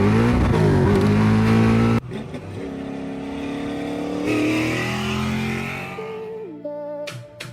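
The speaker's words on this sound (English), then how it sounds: "It's a high revving little engine." A Majestic 65 car with a high-revving little engine roars loudly and close, cuts back sharply, then climbs into a sustained rising rev before dropping off near the end.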